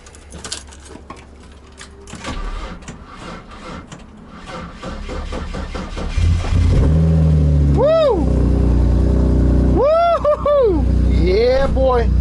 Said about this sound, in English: Let's see if it's gonna start.